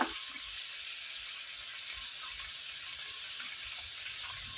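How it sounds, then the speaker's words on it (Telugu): Chicken frying in a pan with ginger garlic paste and turmeric gives a steady, even hiss that runs the whole time with no talk over it. "ఒక వన్ స్పూన్ పసుపు వేసుకుందాం వేసుకొని అల్లం వెల్లుల్లి పేస్ట్ పచ్చి వాసన పోయేంత వరకు ఫ్రై చేసుకోవాలి"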